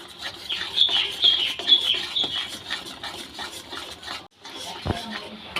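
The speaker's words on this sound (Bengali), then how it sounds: "সমানে এইভাবে নেড়ে যেতে হবে গ্যাসে বসিয়ে দিয়ে অন্য কোথাও যাওয়া যাবে না" Green banana peel paste being stirred and scraped in a pan on a gas stove, a steady close rasping and rubbing with a brief pause near the end.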